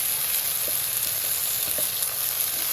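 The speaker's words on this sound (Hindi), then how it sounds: "जब इसमें सब्ज़ मिर्ची और टमाटर डाल दें" Green chilies and tomatoes hitting a hot frying pan, a continuous close sizzle with a few faint stirring clicks, no talking.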